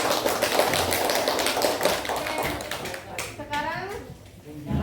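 A classroom of children applauds after a group finishes presenting, with dense, steady clapping for about three seconds that then thins out, and some chatter mixed in.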